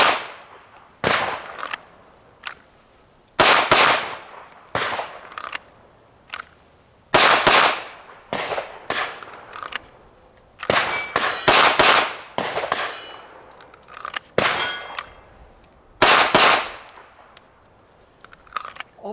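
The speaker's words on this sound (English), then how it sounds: "what I'm going to do is shoot 5 presentations, 2 shots each to that circle" An M&P 2.0 Compact pistol fires in pairs of shots at a 5-yard target, sharp loud cracks with echoing tails repeated in several evenly spaced strings.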